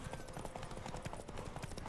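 Rhythmic clip-clop of horse hooves galloping through the Witcher 3 video game, a steady, dense beat of hoofbeats over continuous game ambience, fairly close and constant throughout.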